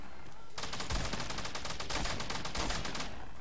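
Rapid gunfire from a video game firefight, a dense burst of shots starting abruptly and continuing steadily for about three seconds with a few heavier thuds, no talking.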